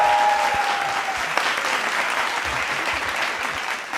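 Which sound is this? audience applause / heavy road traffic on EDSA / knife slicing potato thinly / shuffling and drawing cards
audience applause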